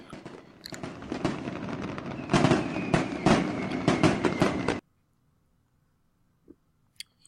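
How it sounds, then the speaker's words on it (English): Fireworks at a baseball stadium after the Braves beat the Reds in Atlanta: about five seconds of dense, crackling bursts and pops that stop abruptly, followed by near silence with a few faint clicks. "As the Atlanta fans celebrate with fireworks."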